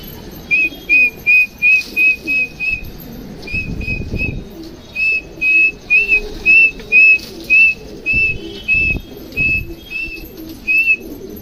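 A person whistles in short repeated bursts to call pigeons to feed, bright clear whistles in quick groups with soft bird cooing and rustling beneath, close by.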